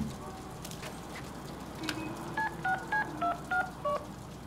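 Telephone dialing tones in the Deadpool video game: a run of about seven short, evenly spaced touch-tone beeps over a faint background hiss.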